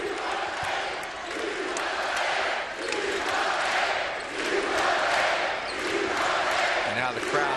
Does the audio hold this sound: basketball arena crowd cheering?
yes